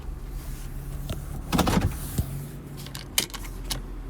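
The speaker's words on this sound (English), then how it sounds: "I'm parking this car." A car is parked with a power window whirring, short mechanical clicks and thumps, and a steady engine hum beneath, with no talking.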